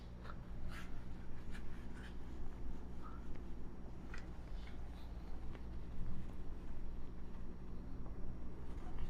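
Faint scratching and tapping of a pen writing equations by hand, soft irregular strokes under a steady low background rumble, with no voices.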